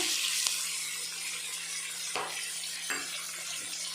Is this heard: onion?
yes